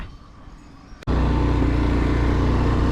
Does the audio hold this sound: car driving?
yes